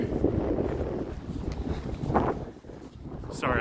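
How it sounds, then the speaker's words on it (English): Gusty wind buffets the microphone in a steady low rumble, with a few brief rustles and a sharper burst near the end. Recorded outdoors in a backyard. "Sorry, I know it's really windy."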